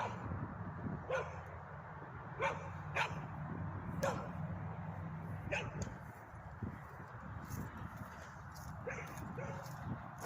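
Dogs bark in short separate bursts at a dog park in the late afternoon, several sharp yips and woofs spread over the scene, moderately distant, over a low steady background hum.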